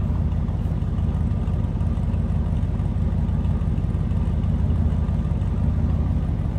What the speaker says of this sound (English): Dual exhaust. Little rumble coming out of that 352.